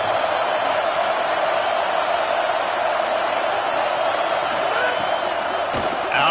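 Home crowd at a Georgia Bulldogs college football game roars in a steady, loud, broadband wash of cheering and whooping that holds throughout, with a few faint thumps near the end.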